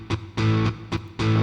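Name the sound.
electric guitar with distortion effect, BlueARP guitar mode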